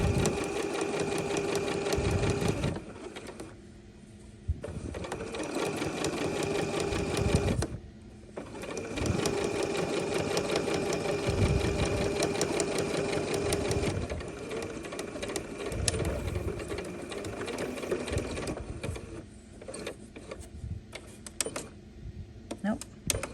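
A sewing machine stitches the outline of a drawn rectangle on fabric for an 18th-century pocket. The whirring runs in bursts, stops briefly between them, then starts again, close and loud, with a person talking quietly underneath.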